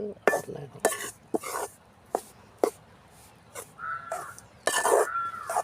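Maida flour roasts in a pan for burfi, stirred in repeated sharp metallic scrapes and knocks of a spoon against the pan, with crows cawing in the village background.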